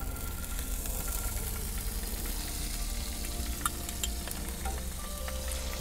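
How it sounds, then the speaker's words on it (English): Butter and vegetable oil sizzling in a warm pan inside a camper van, a steady close crackle and hiss with small pops, alone without talk. "So I'm going to add a knob of butter to the warm pan"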